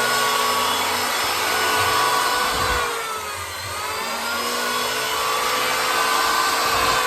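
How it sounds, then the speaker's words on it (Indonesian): A power planer shaves the long, angled wooden part of a bird cage to follow its curve, giving a steady, close motor whine with a brief dip in load midway. "untuk bagian yang panjang ini kita serut ya, biar ikut miring juga mengikuti lengkungan ini."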